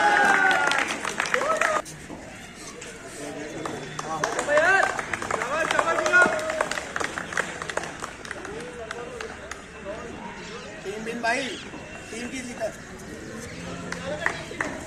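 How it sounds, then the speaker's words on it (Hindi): A crowd at an outdoor stadium in Kathua applauds a cricketer during a police T20 championship match, with steady scattered clapping throughout while a commentator speaks over it. "बहुत सारी तालियां अंकुश बंदराल के लिए।"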